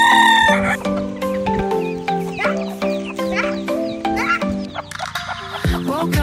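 Several farm chickens cluck and squawk close by in quick, irregular bursts, sharp calls overlapping one another with no talking.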